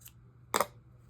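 One quick, crisp snip of scissors cutting yarn while finishing a knitted baby beanie, close and clear against a quiet room.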